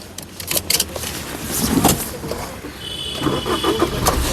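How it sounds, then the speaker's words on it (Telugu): A 2018 Maruti Suzuki Swift Dzire VDI diesel car cranks briefly and starts on the first try, settling into a steady idle with a faint whine, heard from nearby without talk. "సింగిల్ సెల్ఫ్లో కార్ స్టార్ట్ అవుతుంది"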